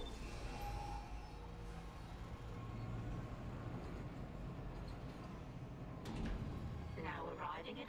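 A tram in the video game Dead Space rolls along with a steady low rumble and faint mechanical clatter, with a brief sliding, clanking sound near the end and a voice heard over it.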